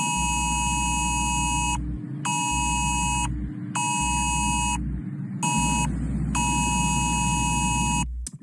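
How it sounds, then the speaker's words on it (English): A UK emergency public warning alert test tone sounds on a mobile phone during the nationwide Sunday 3 pm test. It is a loud, harsh buzzing tone that pulses in long bursts separated by short gaps, over a low steady hum, with no voices. "This is the first nationwide test of a public warning system that sends alerts to UK mobiles at 3 o'clock on Sunday."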